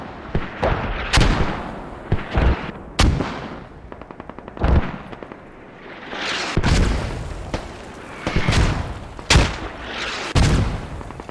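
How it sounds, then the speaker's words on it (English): Mortar rounds exploding in the military shooter game Squad: a string of loud, heavy booms and sharp blasts at uneven intervals, some with rolling tails, and no talk. "But Robo taking damage from the mortars"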